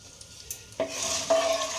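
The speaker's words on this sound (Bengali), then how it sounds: "কালো সরষে এবং শুকনো লঙ্কা। হ্যাঁ, দুটো ফাটিয়ে নিয়েছি।" Black mustard seeds and two dried red chillies crackle in hot oil during the tempering for a spicy savoury semolina pulao. The first half is quiet, then a sudden sizzling burst comes up close and holds steady, with a second surge partway through.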